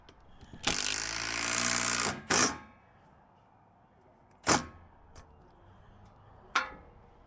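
Power tool tightening a fastener on a new railing, a sustained loud whir of about a second and a half followed by a short second burst, then a few isolated sharp clicks and taps.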